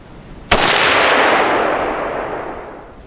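An AR-15 fired once through a Tactical Advantage Armory 3%er muzzle brake outdoors, a single sharp, loud crack followed by a long, slowly fading rumbling echo.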